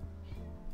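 A house cat gives a single short meow close by, clear and alone, lasting well under a second.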